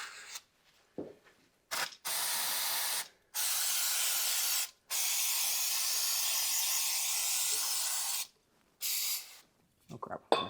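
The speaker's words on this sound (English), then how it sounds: "Oh crap, I sprayed the camera." Aerosol spray can hissing during cleanup after a Range Rover L405 rear differential oil change, in several bursts of a few seconds each, separated by short pauses, close and steady.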